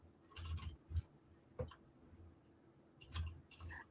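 Faint keyboard typing, scattered soft clicks and taps arriving in small irregular bursts with pauses between them, heard close in an otherwise quiet room.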